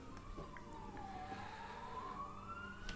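A faint siren wails in the distance in the video game Dwarf Fortress, its pitch sliding down and then rising again over a low background rumble.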